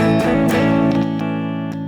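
A sustained, harmonically rich electric guitar chord rings out with distortion, bright upper partials and a few picked accents, decaying slowly over about two seconds.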